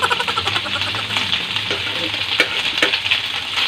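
Food sautéing in a frying pan while cooking mung beans, a continuous close sizzle and spatter with frequent clicks and scrapes of stirring.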